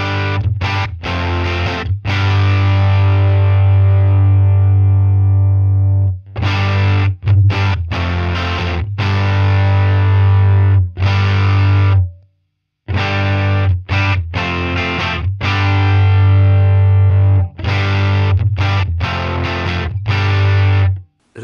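Distorted electric guitar played through a Line 6 Helix amp model with a ratty, higher-gain tone, loud sustained chords and riffs ringing out in phrases with brief gaps, alone with no talking.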